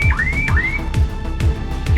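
A car alarm wails with repeating rising whoops, paired with a regular low pulsing beat, loud and close.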